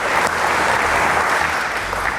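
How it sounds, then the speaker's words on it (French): Applause at a belly-flop diving contest, steady dense clapping from a crowd filling the whole moment at close range, with no voices standing out. "On l'applaudit encore une fois."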